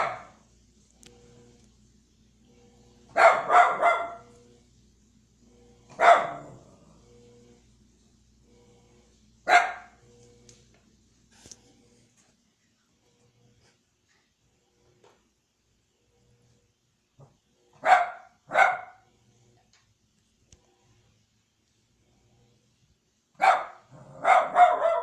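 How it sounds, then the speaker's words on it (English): A dog barks at a washing machine in short sharp bursts, single and paired barks spaced a few seconds apart with near silence between them, close and fairly loud. "he's barking like crazy"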